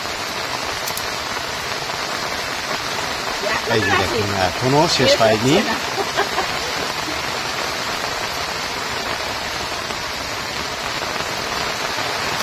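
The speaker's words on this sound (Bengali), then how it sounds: "দেখছেন প্রচন্ড বৃষ্টি নেমেছে আবারও" Heavy rain pours down during net fishing in the Sundarbans, a steady broadband hiss that runs the whole time while people talk over it.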